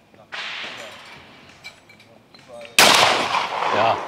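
A Krieghoff K80 shotgun fires at a clay target on an outdoor range: a single sharp, loud report bursts out near the end after a stretch of quiet background hiss.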